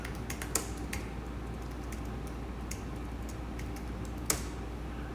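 Scattered clicks on a computer keyboard as button text is typed, sharp isolated taps over a steady low hum, no talking.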